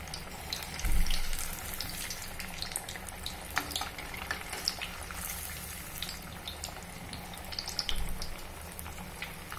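Spinach vadas deep-fry in oil over a medium flame, giving a continuous soft, bubbling hiss with small crackles that stays fairly quiet and even throughout.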